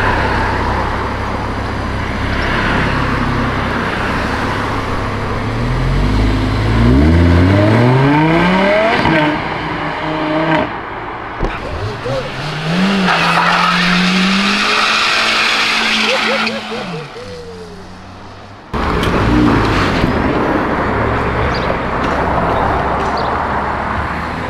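A supercar passes at a car show, its engine revving and rising in pitch as it accelerates by, then fading before another loud engine roar; a crowd's voices and talk sit underneath.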